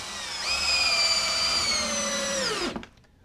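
Cordless power drill driving screws into a wooden wall stud during kitchen framing, one long steady whine lasting over two seconds that winds down sharply as the screw seats, loud and close with no talk.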